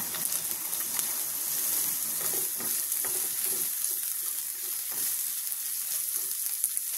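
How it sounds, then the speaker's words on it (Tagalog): Garlic and onion sizzle in a pan with a little coffee oil, a steady bright hiss broken by soft scraping stirs, with no talk over it. "Sauté for garlic and onion"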